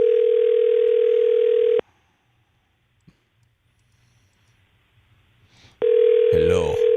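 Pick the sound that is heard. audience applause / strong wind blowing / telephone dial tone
telephone dial tone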